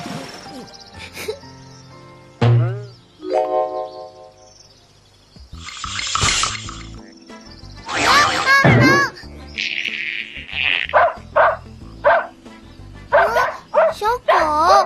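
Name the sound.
dog barking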